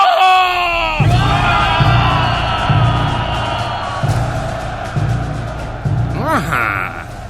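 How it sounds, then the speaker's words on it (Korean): Goryeo soldiers at the Battle of Guiju roar battle cries and pound war drums, a dense crowd of yelling men over steady booming drum beats, loud and continuous throughout. "모두 함성을 지르라! 모두 다 힘껏 북을 쳐라!"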